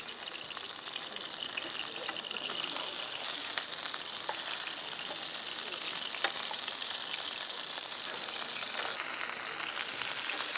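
Thick slices of food frying in a hot pan, a steady, close crackling sizzle with scattered sharper pops running unbroken throughout.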